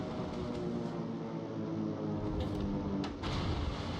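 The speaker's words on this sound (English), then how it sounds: "Aircraft closing in." Aircraft close in during a World of Warships naval battle, heard as a continuous engine drone with a few brief whooshing swells over the top.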